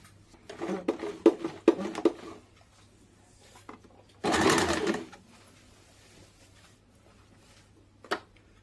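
A sewing machine stitches a blouse neckline, with a stuttering run of short stitching bursts followed by a pause, then one steady half-second burst and a lone later click, close and without talk.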